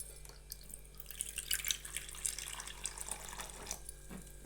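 Water trickles and splashes as it is poured into red chutney before grinding, an uneven close pour that swells in the middle and tapers off, with no one speaking.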